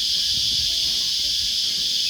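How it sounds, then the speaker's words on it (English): Loud, dense crickets in a park in New South Wales, a constant high shrill chorus that fills the scene without a break, with faint low rumbles beneath. "It's almost impossible to talk here, how noisy these crickets are"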